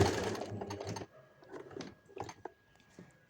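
Sewing machine stitching the side slit of a kurti in short stop-start runs, quiet and close, with a louder whirring burst at the start followed by softer intermittent stitching.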